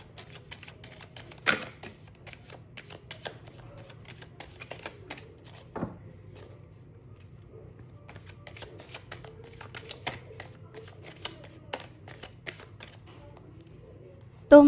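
Tarot cards being shuffled up close in a quiet room, soft rustling and light clicks with a few sharper snaps.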